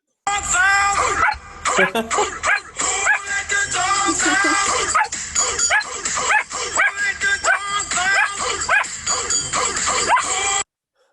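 A dog heard in a dog video played back, with repeated yips, whimpers and bark-like calls running almost continuously and loud for about ten seconds, then stopping abruptly.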